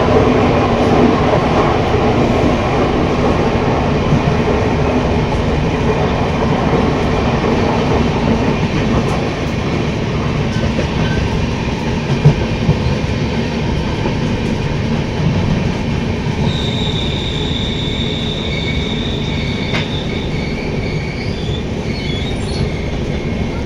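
A passenger train rumbles steadily along the tracks as it enters Katwa station, close and loud, with a faint high-pitched squeal of wheels appearing toward the end.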